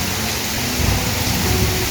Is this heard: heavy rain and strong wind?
yes